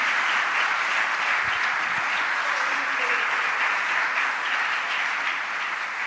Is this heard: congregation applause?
yes